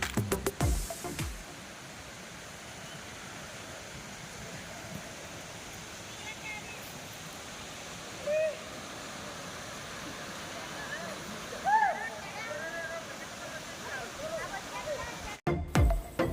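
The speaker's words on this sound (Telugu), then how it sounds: "ఈ వాటర్ ఫాల్ చాలా అద్భుతంగా ఉంటుంది" Hidden forest waterfall at Dharapalli near Rajahmundry, East Godavari, giving a steady, soft rushing hiss that fills the whole span at a distance. A few brief chirps rise faintly above it, and there are no clear voices.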